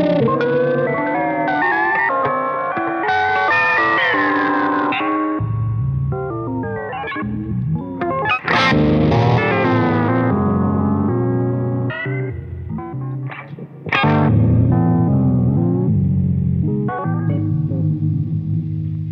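An electric guitar runs through a Jam Pedals Delay Llama Xtreme in random mode, with chords and notes breaking into warped, stuttering, echoing repeats that swell and cut out in irregular bursts, loud and alone.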